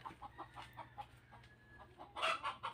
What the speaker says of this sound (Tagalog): Disturbo mati nga manok mo.